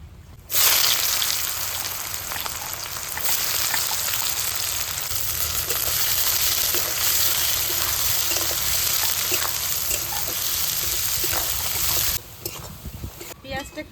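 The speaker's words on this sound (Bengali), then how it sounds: "চারটে শুকনো লঙ্কা দারচিনি এলাচ লঙ্কা লাল লাল করে ভেজে নিয়েছি" Dried red chillies, cinnamon, cardamom and whole cumin frying in hot oil for a Bengali mutton curry, a loud steady close sizzle lasting about twelve seconds before it drops away.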